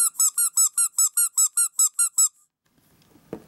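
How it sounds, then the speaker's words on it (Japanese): A Cream Panda Anpanman toy squeaks about a dozen times in quick, even succession as its belly is pressed, high and bright, then stops, followed by a faint thump. "クリームパンダも、お腹を押すとこんな音がする"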